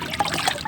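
Water is scooped with a jug and poured out, giving a brief, close trickle and splash of about a second with no one speaking.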